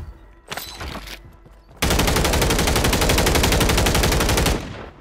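Enemy gunfire in Call of Duty Rebirth Island, a video game: a brief burst of shots, then a long, loud, rapid machine-gun stream lasting several seconds before cutting off, with no talk.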